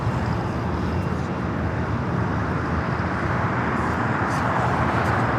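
Turkish Airlines Boeing 787 Dreamliner at LAX, a steady broadband jet roar that holds evenly loud throughout, close and continuous with road traffic mixed in and no talk.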